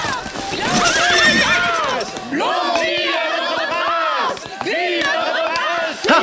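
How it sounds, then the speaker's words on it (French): Several horses in an animated Buddha legend film whinny loudly again and again, with clip-clopping hooves and a crowd murmuring beneath, the neighs rising and falling in close, overlapping bursts. "Arrête les chevaux."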